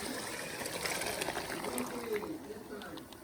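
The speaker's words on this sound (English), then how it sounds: "to get the rest of the masala, I'm gonna add a little water" Water pours and trickles into a pan of chicken masala curry with onion, cumin, ginger and garlic, a faint, steady splashing over a few seconds beneath soft talk.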